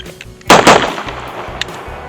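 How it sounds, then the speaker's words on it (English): Pistol shots fired on a range at 3 yards after a fast draw from the holster: one loud, sharp crack followed quickly by a second, ringing out alone with no voices. "the first shot is to fire 2 or 3 shots to see how well your grip stays together"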